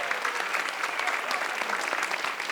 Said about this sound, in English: Let's give everybody a round of applause right here.